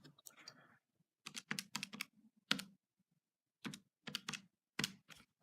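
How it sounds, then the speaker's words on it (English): Short clusters of button presses on a calculator, crisp close clicks in quick bursts separated by brief pauses, with no talking. "You can type this into your calculator."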